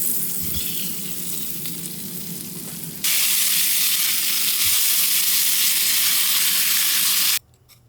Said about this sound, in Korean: 프라이팬에 구워서 먹어요.